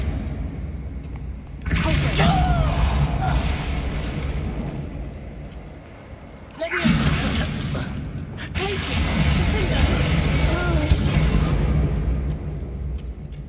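Confringo explosion spell cast in the video game Hogwarts Legacy, loud bursting blasts and crackling debris in two main waves with brief quieter gaps, dense full-range noise throughout.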